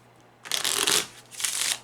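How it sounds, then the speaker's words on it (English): Two quick bursts of riffling as a deck of La Baraja Española cartomancy cards is shuffled by hand, close and crisp, with a short pause between them and no talking. "I'm focusing on the question as I shuffle."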